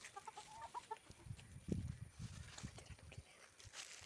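Hens and chicks clucking softly, with short irregular clucks and peeps at a low level against faint background noise, one slightly louder cluck in the middle.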